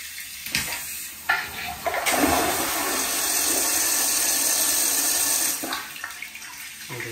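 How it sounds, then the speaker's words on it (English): An EPLO EP-16 smart toilet flushes after a button press, with a burst of rushing water that swells and holds for several seconds before tapering off, heard up close in a bathroom. "So here's a demo of, you know, I guess a flush."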